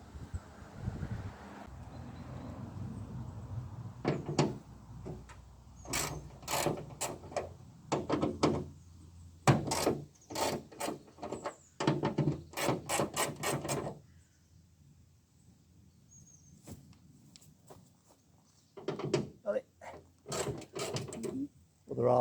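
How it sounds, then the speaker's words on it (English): Vauxhall Corsa SRi salvage repair, bent bonnet being removed: scattered metallic clanks, clicks and knocks of tools and panel handling in a workshop, irregular bursts with a quiet gap midway. "Next job is need to get that bonnet off, hinges off, which are bent, and a new bonnet on there."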